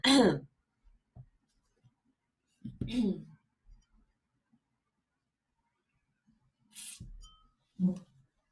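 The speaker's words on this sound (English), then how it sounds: "I just needed a moment to clear my throat." A person clears their throat in a few short, rough bursts separated by quiet pauses, close and fairly soft, with faint breathy sounds between.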